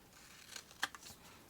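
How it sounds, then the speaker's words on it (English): Scissors snip at the corners of a paper envelope made with box dies, giving a few quick, faint crisp cuts, one sharper than the rest, in a quiet room with no talking. "take your scissors and cut away on the corners, just at a 45-degree angle there"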